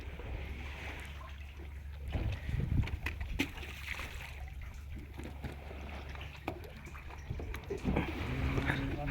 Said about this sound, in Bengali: হালকা হালকা ঢেউ হচ্ছে, নৌকাটা গড়াচ্ছে খুব।